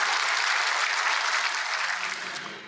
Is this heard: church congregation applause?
yes